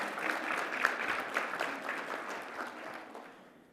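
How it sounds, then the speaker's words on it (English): An audience at the opening of a healthcare conference in the Cayman Islands gives a short burst of applause, steady clapping from a moderately distant crowd that fades away over a few seconds. "we have to give ourselves a round of applause"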